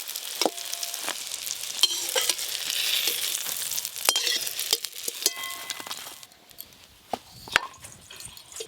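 Eggplant slices frying in oil, a continuous close sizzle broken by sharp clicks and clatters of a utensil, with the frying quieting near the end.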